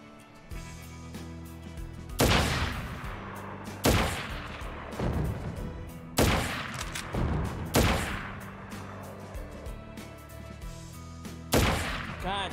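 Sniper rifle shots in the video game Crisis Core Final Fantasy VII, about six sharp loud cracks spaced a second or two apart, each with a short echoing tail, over quiet game ambience.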